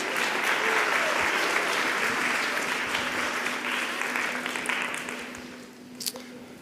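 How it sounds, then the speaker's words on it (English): An audience claps for a volunteer joining a presenter on stage at a speech competition. The applause is sustained and even for several seconds, then thins out and fades near the end, with a faint voice just audible underneath. "Let's give her a round of applause."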